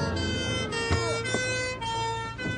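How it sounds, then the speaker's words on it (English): Police cars and an ambulance drive up with sirens wailing, the rising and falling tones loud and close over engine rumble. "4 police cars, an ambulance, and 1 black car drove up to the front of Gerald's house"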